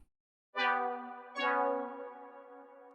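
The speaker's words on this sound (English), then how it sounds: "this is what that little lush chord sounds like" A lush synth chord with delay and reverb, made for a vocal trap beat, strikes twice in quick succession, each bright attack swelling and then trailing off into a washy tail, heard alone.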